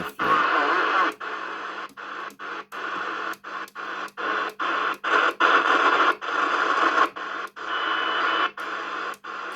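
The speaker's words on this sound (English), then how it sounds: "Some Morse code there, I think." Morse code tones keyed over hissing static on an AM CB radio tuned to a mid-band American channel, sounding in steady on-off bursts broken by short regular gaps, fairly loud and alone.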